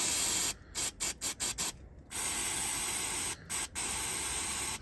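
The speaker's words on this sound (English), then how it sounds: "Need some cleaner now, and I'll just spray right here." Aerosol brake cleaner sprayed onto the brakes of an Opel Astra MK4, a loud steady hiss broken by several short bursts with brief pauses between them.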